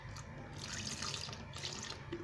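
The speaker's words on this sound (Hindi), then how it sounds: "थोड़ा सा पानी डाल के मैं इसको मिला लेती हूँ" Water is poured into a chicken haleem mixture in a home kitchen, making a soft, continuous splashing trickle at low volume with no talking.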